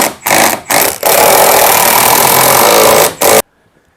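Power tool tightening the hub nut on a Fiat Panda 100HP, loud close buzzing whir in a few short bursts followed by one long sustained run, then silence.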